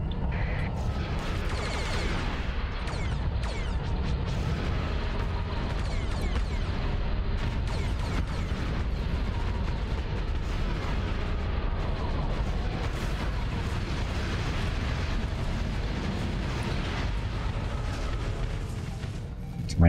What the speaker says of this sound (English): Many explosions for him.